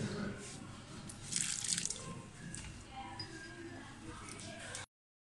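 Water poured into a papri dough mixture in a kitchen, a soft splashing trickle with a brighter gush midway, faint and close, ending abruptly.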